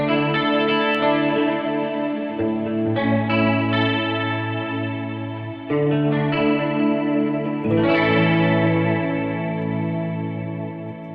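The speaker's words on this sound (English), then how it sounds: "Here's just a quick little chorus sound of it" Electric guitar run through the chorus setting of an Eventide H9 pedal, sustained shimmering chords with a wavering, doubled quality, several chord changes played alone at steady volume without talk.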